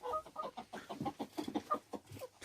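Hens in a Kazakh backyard flock clucking in a close, busy run of short calls, with a rooster-like call among them.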